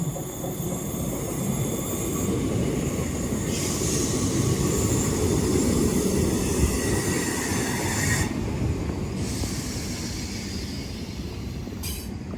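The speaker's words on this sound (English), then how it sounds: "Train now arriving is a 319 going to Liverpool Lime Street" A Class 319 electric train pulls into Edge Hill station, a steady loud rumble of wheels on rails with brief high squeals and rattles throughout, no voices.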